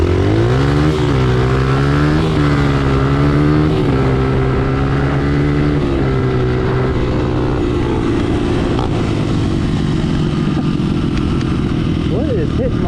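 Pit bikes racing on a road toward a stop sign, small engines revving up and shifting through gears with rising pitch sweeps, close and loud throughout.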